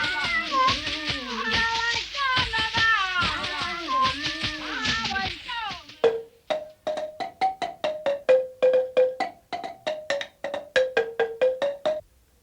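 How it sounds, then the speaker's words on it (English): Dance rattles made of butterfly or moth cocoons, first shaken in dense overlapping bursts, then struck in a quick series of sharp distinct clicks, close and clear. "Rattles used in dancing are made of many materials, including butterfly cocoons or moth cocoons."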